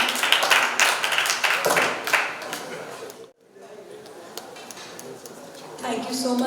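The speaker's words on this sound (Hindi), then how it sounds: "तालियां बजनी चाहिए" An audience applauding at a Bollywood health event, bursts of clapping with crowd chatter and a voice speaking over it, fading into quieter talk and background murmur.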